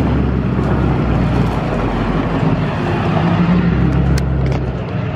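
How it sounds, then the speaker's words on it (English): A truck with a mini excavator pulls into a shop working on a monster truck lift kit swap. A loud, continuous engine rumble and road noise hold steady throughout, with some wind buffeting and no talk. "There's Eric pulling in with the good old LOI and the Mini X"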